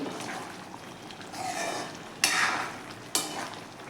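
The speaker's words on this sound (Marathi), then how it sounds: "हे सर्व व्यवस्थित आपल्याला मिक्स करायचं आहे" A spoon stirring dry mixed vegetables with kasuri methi and coriander in a pan, soft scraping and light sizzling with two sharp clanks of utensil against the pan, close and fairly quiet.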